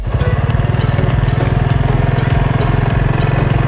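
A motorcycle ridden on Biri Island roars loud and close with a steady, rapid engine pulse and throbbing exhaust, wind rushing over the microphone throughout.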